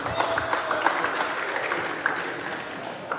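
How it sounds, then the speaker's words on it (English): Scattered clapping from a small audience at a talk on substance abuse, brief and moderately loud with a few sharper individual claps over a room murmur. "Don't clap too loud."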